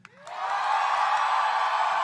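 Live audience at a voice actor panel voting by noise, erupting into a sustained roar of cheering and whooping that swells quickly and holds loud.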